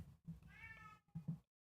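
A house cat close by gives a drawn-out meow, then a couple of short chirpy cries, quiet and alone, fading into silence at the end.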